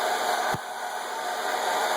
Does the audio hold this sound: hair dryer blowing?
yes